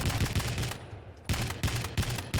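Heavy machine gun fire in a fast-paced arena shooter duel, with rapid close bursts of shots, a brief pause, then more rattling fire.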